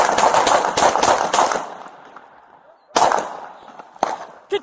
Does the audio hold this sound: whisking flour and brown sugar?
no